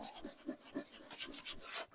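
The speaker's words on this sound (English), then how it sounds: "I'm going to sand it and age all of these parts" Wooden parts are rubbed down with sandpaper, giving soft, quiet rhythmic scratching strokes, roughly four per second, close by with no voices.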